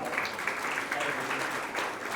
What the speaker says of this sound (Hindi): इनके लिए ताली एक बार